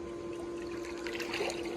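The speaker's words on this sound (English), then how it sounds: "see if the water's nice and forceful" Water gushes steadily from the inlet of a Bestway 24' x 12' x 52" Power Steel Frame above-ground rectangular pool, a continuous close splashing rush over the steady hum of the running pump motor.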